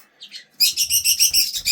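A pet bird indoors lets out a couple of faint chirps, then a loud, rapid burst of shrill squawking chirps close by, with no talking.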